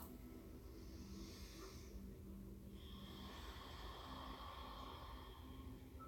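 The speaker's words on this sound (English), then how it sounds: "You want to add some force to your breath, coming into your Ujjayi breathing." Forceful Ujjayi breathing during a Kundalini yoga session, slow audible rasping breaths in and out with a soft ocean-like hiss, steady and quiet with no talking.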